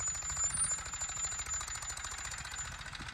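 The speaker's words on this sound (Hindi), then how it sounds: "मेस्सी फर्गुसन 241 मार्केट का ट्रैक्टर है भाई, ये देखो चाल देखो ट्रैक्टर की भाई।" A Massey Ferguson 241 tractor engine knocks in a rapid, steady diesel rhythm while ploughing a wet field, close and continuous with no voices.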